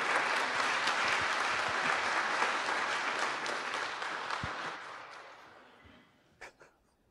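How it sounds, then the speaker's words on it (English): An audience at a Kansas City startup pitch event gives a round of applause, steady clapping that gradually fades out over several seconds, with a couple of faint knocks at the end. "Let's give him a round of applause."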